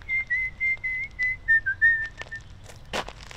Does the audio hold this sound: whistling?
yes